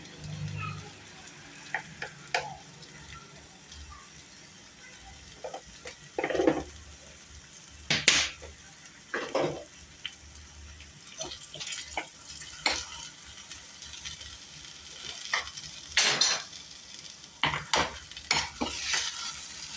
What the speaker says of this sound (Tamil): இன்னும் ஒரு 2 நிமிஷம் நல்லா வதக்க தான் செய்யணும்